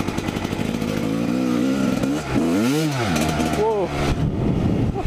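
A Honda CR dirt bike engine, either a CR 250 or CR 85, revs loudly and close, its pitch rising and falling in repeated swells as the throttle opens and closes, with a rider talking over it.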